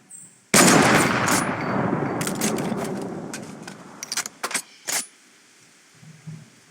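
Video game sniper and assault rifle gunfire bursts out loudly in a sustained roaring volley that fades, followed by several short clattering reload clicks and mechanical rattles, with no talk.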